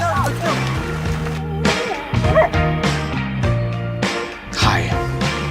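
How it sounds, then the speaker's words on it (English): A dog barks and yips in quick repeated bursts, close and loud, with whimpering in between and a person talking over it. "You got a dog."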